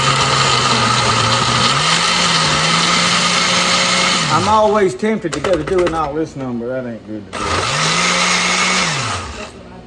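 A blender making homemade salsa whirs loudly with a pitch that rises and dips, stops while someone talks, then roars back up to full speed.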